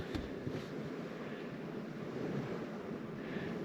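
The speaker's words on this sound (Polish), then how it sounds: "Fala się zrobiła na jeziorze, słychać właśnie cały czas przybój." Waves wash steadily against a lakeshore in Kashubia, Poland, in a continuous roar under an overcast early-spring sky, mixed with gusty wind rumbling on the microphone; no voices.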